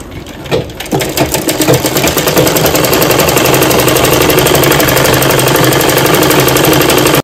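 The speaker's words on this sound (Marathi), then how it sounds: "आता आपण शिलाई मारणार आहोत." A sewing machine stitches fabric in a steady, fast mechanical whir with rhythmic needle clatter, starting after a couple of clicks and running loud and close without pause.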